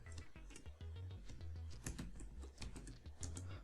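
Keyboard typing on a computer during a Google search, a steady run of quick, close taps over a low background hum.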